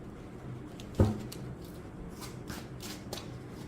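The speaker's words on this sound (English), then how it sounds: "So I am shuffling the Jane Austen tarot deck for you." A Jane Austen tarot card deck is shuffled close by, with one sharp riffle snap followed by softer, quieter card rustles.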